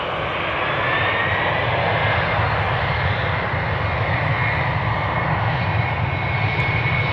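Jet airliner engines roar steadily at Amsterdam Schiphol Airport near the Polderbaan runway, a loud, continuous broadband rumble that holds the same level throughout with no talking.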